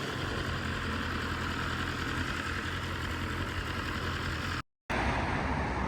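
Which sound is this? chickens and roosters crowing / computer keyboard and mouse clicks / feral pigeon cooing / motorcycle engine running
motorcycle engine running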